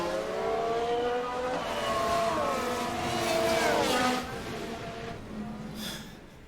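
F1 race cars scream past on the track in F1 Manager 22, their engines whining and shifting pitch as they sweep by close and loud before fading out, with no speech.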